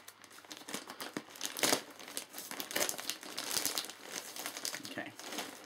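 A plastic-wrapped yarn package is opened by hand, giving loud, close crinkling and rustling of plastic in irregular bursts, with some talk around it.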